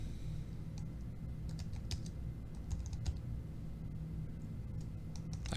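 Typing on a computer keyboard produces a steady run of light, quick key clicks close by over a low background hum, with no talking.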